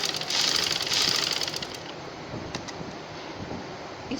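Sewing machine running steadily while stitching a frill onto trousers, a continuous close whirring hum that is loudest in the first second and a half and then carries on slightly softer.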